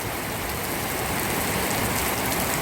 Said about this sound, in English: You can definitely see how hard it's raining in the pool.